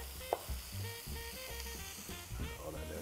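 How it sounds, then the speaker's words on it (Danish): Fat frying in a pan while cooking beef for pita bread, a steady, fairly quiet sizzle running throughout with occasional light clicks and faint tonal sounds behind it. "Og vi holder lige øje med vores fed, mens vi steger."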